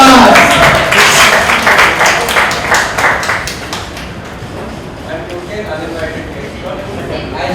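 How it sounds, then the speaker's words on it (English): Applause rises from an audience at a Filmfare stage event as a guest joins on stage, loud at first and fading after a few seconds beneath ongoing chatter and stage noise. "A round of applause for Vikas."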